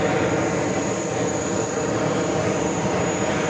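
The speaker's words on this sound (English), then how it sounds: "Flight 401 heading back to Frankfurt, 747-400, rolling down 4 left." A Boeing 747-400 bound for Frankfurt rolls down runway 4 Left at JFK, its engines a loud, continuous broadband roar with a steady high whine and no talk.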